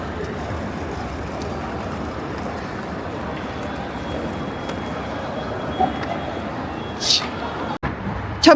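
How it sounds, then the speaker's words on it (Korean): Evening ambience at the Xi'an train station: a steady, busy wash of crowd and traffic noise, with scattered faint voices and a few brief louder knocks near the end. "기차역은 시끌벅적하지요"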